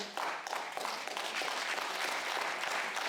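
Audience at a debate on the 1833 Grand'Anse affair applauding steadily, a dense sustained patter of clapping at moderate volume throughout, with no clear talk.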